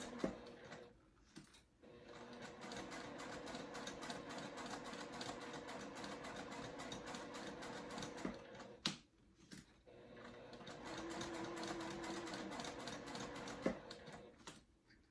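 A sewing machine runs a long seam on a zip crossbody bag at a 1/8 seam allowance, its rapid steady whir briefly halting twice before resuming, close and moderately quiet.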